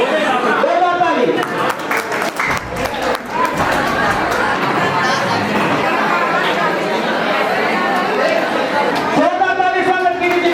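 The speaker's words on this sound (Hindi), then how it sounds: "जोरदार ताली।" Students at a coaching center farewell ceremony in Patna burst into a long, dense round of applause to welcome a classmate, with someone speaking over the start and the end.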